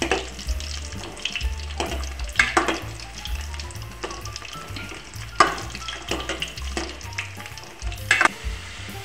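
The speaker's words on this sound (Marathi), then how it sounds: "अशा प्रकारे मी तेलामध्ये आलू परतून घेणार आहे।" Potatoes frying in oil give a continuous bubbling sizzle, with occasional spatula scrapes and knocks on the pan, fairly close and steady.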